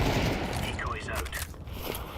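Video game gunfire crackles in a dense, rapid stream of loud, close bursts filling the whole moment.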